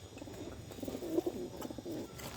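Pet pigeons coo softly in a steady low murmur close by, with a few fuller coos rising near the middle and no talking over them.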